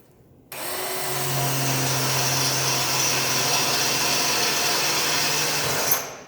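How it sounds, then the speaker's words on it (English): A power drill starts abruptly and grinds through a spot weld joining two metal pieces with a loud, steady whine for several seconds before cutting off. "now I take my drill"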